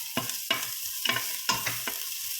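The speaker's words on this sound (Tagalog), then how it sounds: "Ayoko masunog yung luya ko, so I just keep stirring it." Garlic and ginger frying in a pan, stirred with repeated scraping strokes over a steady close sizzle.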